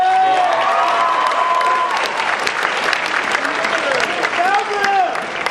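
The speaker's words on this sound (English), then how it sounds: "And give them a round of applause." A graduation ceremony crowd gives the teachers a round of applause, with sustained loud clapping and scattered whistles and cheers rising through it.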